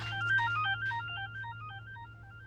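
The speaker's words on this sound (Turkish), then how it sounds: "Odada unutmuşsun telefonunu dayım arıyor." A mobile phone rings with an incoming call, playing a repeating electronic melody tone at moderate volume over a low steady hum, with no talking.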